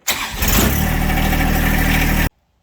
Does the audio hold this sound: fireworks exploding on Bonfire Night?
no